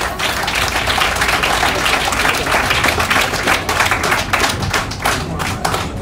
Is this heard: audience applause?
yes